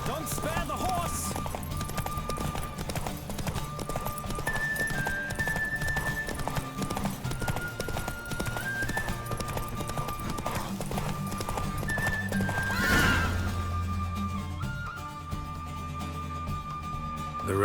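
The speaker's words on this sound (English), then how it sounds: "Don't spare the horse." Horse galloping in The Witcher 3 during a race, rapid steady hoofbeats with occasional neighs under game music, and a brief swelling rush near the end.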